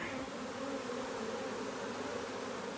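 A honeybee swarm shaken into hive frames makes a dense, steady buzz, close and continuous, with no voices.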